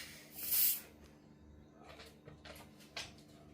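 A short hiss of aerosol spray bursts near the start, followed by quiet rustling and faint handling sounds.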